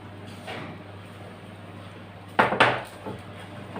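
Dishes and utensils clatter as a kitchen is tidied after baking homemade puff pastry, with a low hum underneath, then a short cluster of louder ceramic and metal knocks near the end.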